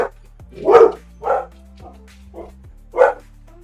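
Dogs barking excitedly at a delivery person, several loud close woofs and yips in an uneven run, with no voices.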